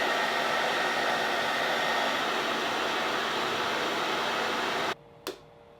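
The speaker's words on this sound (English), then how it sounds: "So I'm going to get a hairdryer and just try this without splitting it first" A hairdryer blows steadily and loudly on a CD for about five seconds, a dense continuous rushing whoosh that cuts off abruptly, followed by a brief faint click.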